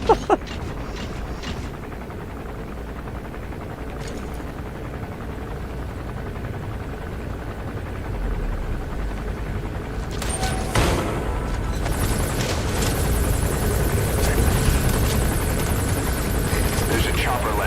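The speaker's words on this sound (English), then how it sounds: "There's a chopper landing." Helicopter in a Metal Gear game setting down, its rotor and engine drone building steadily louder and nearer over the whole stretch, with game speech and effects layered above.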